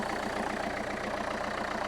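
The 1.5-litre diesel engine of a Renault Kangoo van idles with a steady, even rumble and a fine rhythmic clatter, close and continuous, with no talk over it.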